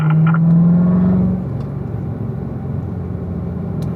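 A race car accelerates hard along a track straight, its engine note rising loudly for a second before settling into a steady, slightly distant rumble.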